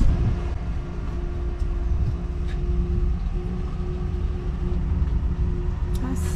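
A slow ferry crossing with vehicles aboard, heard as a steady low engine rumble and hum that continues throughout, with a faint constant tone and a few light knocks near the end.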